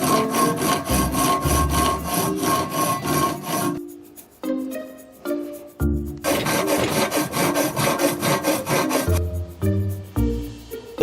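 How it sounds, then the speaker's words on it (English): Hacksaw cutting down the sides of a drilled metal plate to form a U-shape: fast, rhythmic back-and-forth rasping strokes, close and loud, in several bursts separated by short pauses. "now I'm going to hacksaw down the sides to make them into U-shape and file them out"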